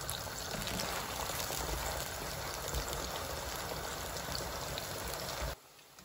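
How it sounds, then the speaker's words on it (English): Four large potatoes cut into small cubes frying in hot oil, a dense, steady sizzle and crackle lasting several seconds before cutting off abruptly, close and even in level, no talking. "I've got 4 large potatoes here chopped into little cubed pieces, which I am going to fry in this hot oil"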